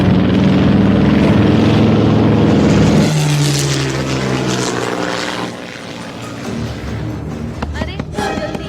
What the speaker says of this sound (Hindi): अरे वहाँ एक विमान है।